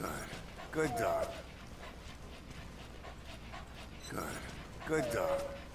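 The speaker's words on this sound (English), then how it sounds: "Good dog." A dog whimpering and panting in two short bursts over a steady background, moderately close, with a high whine in each burst.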